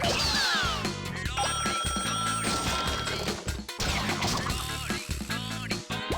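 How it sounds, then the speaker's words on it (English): A bright electronic ringing tone rises through a busy, loud mix of music and clattering effects in the Katamari video game. "I don't know what that ringing noise was."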